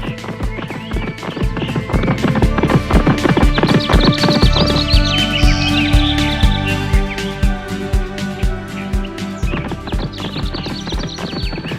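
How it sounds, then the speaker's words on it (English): A horse gallops in a race, fast rhythmic hoofbeats pounding close and loud for the whole stretch, with a brief whinny and music underneath in an animated children's story. "The horse took off striding."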